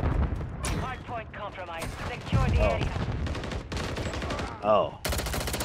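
Rapid bursts of video game gunfire crackle and boom close by, mixed with a voice talking and exclaiming over the shots, ending in a loud sustained volley.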